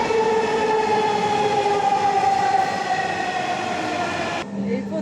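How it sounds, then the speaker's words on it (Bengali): A crowded metro rail train runs steadily with a loud, continuous rumble and whine that holds for about four seconds, then shifts to a lower hum near the end. "এই প্রথম মেট্রো রেলে উঠলাম, দেখেন কত গাদাগাদি।"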